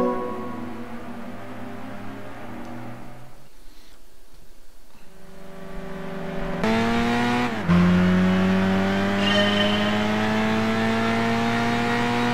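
A Clio RS race car engine in Gran Turismo 6 drones steadily, then revs higher with a rising whine and a gear shift, loud and continuous with no talking.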